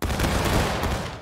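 Infantry musket volley in a multiplayer Civil War battle game, a dense continuous roar of many muskets firing together at close range, filling the whole moment with no talk over it.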